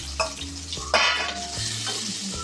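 Okra cooks in a pan with crackling mustard seeds, cumin and spices, a loud close sizzle with the scrape of a stirring spoon, with no voices.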